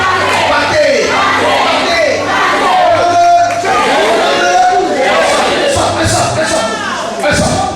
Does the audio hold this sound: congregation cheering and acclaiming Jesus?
yes